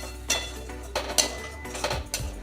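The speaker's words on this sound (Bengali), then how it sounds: "এবার মশলাটা খুব ভালো করে কষে নেব।" A spice paste is stirred and fried in a pan for a cabbage and fish roe curry, with several sharp clinks of a spoon against metal at irregular intervals and a faint frying texture underneath, fairly close and not loud.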